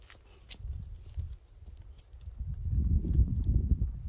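A young foal's hooves clip-clop on the ground in an uneven walking rhythm, close by, growing louder and denser toward the end, with no talk over them.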